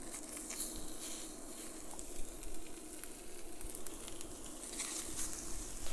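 Water sizzles and spits on a hot Zepter grill pan, a steady crackling hiss with small pops, close up and without speech.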